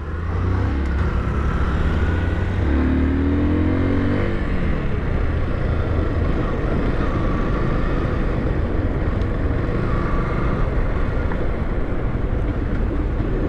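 A Yamaha Crosser motorcycle rides through heavy traffic, its engine and wind roar forming a loud, continuous drone with a brief rising engine tone early on.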